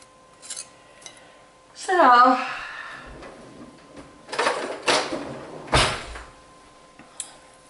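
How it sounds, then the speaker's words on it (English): Chocolate and vanilla cake frosting scraped and moved from a small bowl into a bigger mixing bowl, with clinks, a brief spoken voice, and several loud scraping knocks of utensil against bowl. "Alright, we move it to a bigger bowl."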